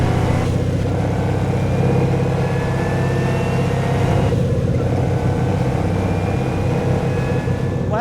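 A carbon fiber Camaro ZL1 engine drones loudly and steadily, with rising whine as it accelerates through gears, continuous and close throughout.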